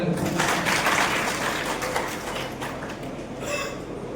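Audience clapping at a library inauguration in Daulatabad, a steady wash of applause running throughout, fairly close and full, with a few voices mixed in.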